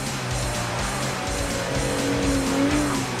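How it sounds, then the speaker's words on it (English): Aston Martin Vanquish with a 6-litre V12 engine roaring as it drives hard, a high tire squeal rising and sliding through the second half, loud and steady with no talk. "With a 6-litre V12 engine that develops 460 brake horsepower and a top speed of 200 miles an hour"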